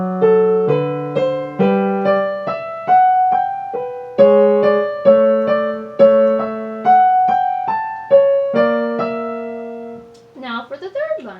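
Bach's Marche is played on a keyboard: a bright melody in the right hand over a steady lower line, with notes decaying cleanly between strikes. Near the end, someone briefly starts speaking after the playing stops.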